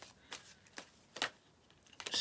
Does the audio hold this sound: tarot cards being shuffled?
yes